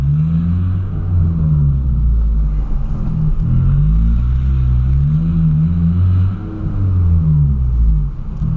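Volkswagen Gol fitted with a modified exhaust, its engine revving loudly and steadily with a deep throbbing rumble that rises and falls in repeated swells, close by.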